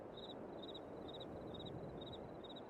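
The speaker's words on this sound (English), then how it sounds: "You hear our crickets?" Crickets chirp in Farming Simulator 22 at night, a steady run of short repeated high chirps in regular bursts over a constant faint background hiss, with no one talking.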